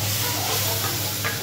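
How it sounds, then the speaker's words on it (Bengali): Prawns frying with onion in oil give off a steady close sizzle and hiss for a brief moment, with no talk over it. "চিংড়ি মাছটা পেঁয়াজের সাথে একটু তেলের মধ্যে ভাজা ভাজা করে নেব"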